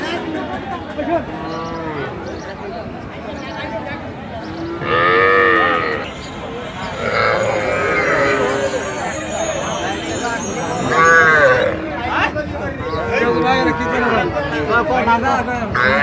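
Cattle at a busy livestock market in Ambari, Dinajpur, moo repeatedly, some calls loud and near, others farther off, over a constant crowd murmur with people talking throughout.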